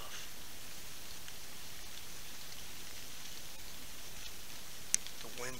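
Light rain falls steadily outdoors around a deer stand, a soft even hiss of drops with no breaks, with one brief sharper tap near the end.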